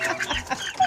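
A chicken clucking in short, close, choppy bursts, a brief busy snatch of farmyard fowl calls under faint background noise.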